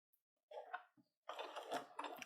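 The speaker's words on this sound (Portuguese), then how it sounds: "E aqui eu começo a costurar." A sewing machine stitching fabric comes in a few short, faint bursts of quick mechanical whirring, separated by brief pauses.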